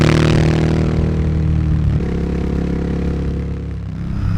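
An Interceptor 650 motorcycle fitted with an 865 big bore kit runs hard on a dyno, its engine a loud, steady droning roar that dips in pitch about halfway and holds there, with no talking.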